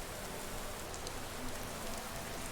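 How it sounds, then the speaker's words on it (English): Steady rain falls in Skyrim, a soft, even hiss of drops on the ground, continuous and fairly quiet throughout the short stretch with no voices. "But, like, it's raining."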